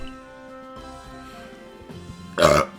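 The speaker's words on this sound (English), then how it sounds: "Sorry, I'm burping." A single loud burp erupts near the end, short and close after a stretch of quiet game music, during a Pokémon Legends: Arceus playthrough.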